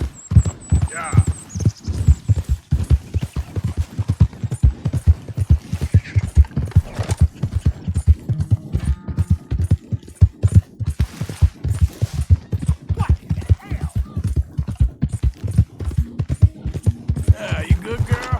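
A horse's hooves clip-clop in a video game, a fast, steady run of hoofbeats that lasts the whole stretch, with voices heard now and then over the top.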